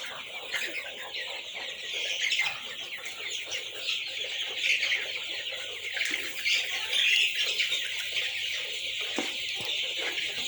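Eight-day-old chicks on a poultry farm make a dense, continuous chorus of high peeping and cheeping, close and steady throughout, with occasional faint background voices.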